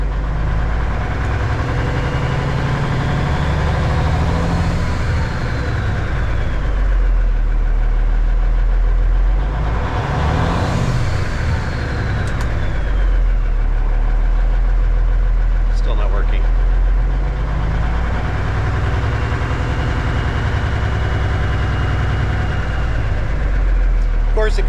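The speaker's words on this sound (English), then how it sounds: "So let's rev it up a little bit. Turn the fast idle off. Put the Jake on 3." A 1989 Kenworth K100E truck engine runs loud and steady throughout, a low heavy diesel rumble that surges as it revs with the Jake brake engaged, with a rising swell near the middle and someone speaking over it.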